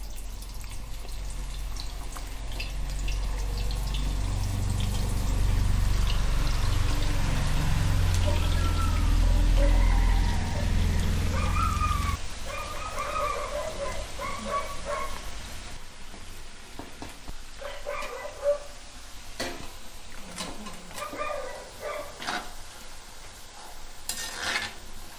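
Banana slices dropped into hot oil in a pan on a wood-fired stove set off a loud, dense sizzle that fades to a lighter crackle and bubbling, with scattered clinks and a quiet voice later.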